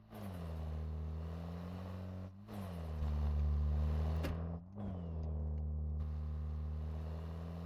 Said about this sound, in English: if a door's open, you can hear the engine more